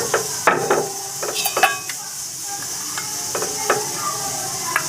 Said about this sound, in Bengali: তো মশলাটা পিষে নিই, তারপরে মাছের ঝাল করব